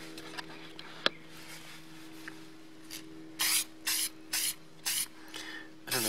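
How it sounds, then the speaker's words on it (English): Several short bursts of Krylon acrylic aerosol spray coating a stamped card, each hissing for about half a second, spaced evenly in the second half after a few faint rubbing sounds. "I think a spray coating would help"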